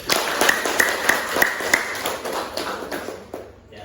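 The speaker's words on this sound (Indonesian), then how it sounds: "mari kita memberi aplaus" Audience applause at a classroom presentation: a short burst of scattered hand claps with a few sharp taps, close and moderately loud, tapering off after a few seconds.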